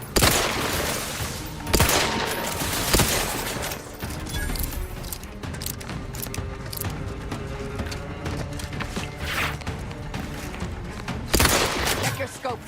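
Rapid bursts of gunfire in the sci-fi shooter The Outer Worlds 2, sharp repeated shots and volleys cracking over a busy combat mix, with loud clusters near the start and end and a radio-style voice speaking.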